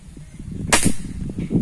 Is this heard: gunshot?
yes